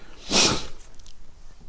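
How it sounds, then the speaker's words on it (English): A single short, breathy nasal sniff from someone with a stuffed-up nose near the start, then quiet room noise. "you'll have to ignore the sniffling"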